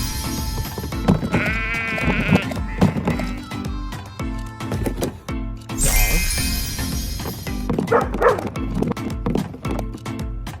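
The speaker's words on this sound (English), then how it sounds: "Sheep." Recorded sheep bleats play from a farm animal toy, several wavering calls in a row over light clatter and tonal background sound, loud and close.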